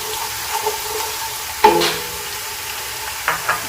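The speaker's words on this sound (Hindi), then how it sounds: "साथ ही हम अपने ये 2 दालचीनी के टुकड़े, कड़ी पत्ता, सब्ज़ इलायची, बड़ी इलायची, ये सारी चीज़ें मिक्स कर देंगे।" Cinnamon pieces, curry leaves, green and black cardamom frying in a pan for kaleji masala, a soft continuous sizzle with a few sharp stirring scrapes and clicks.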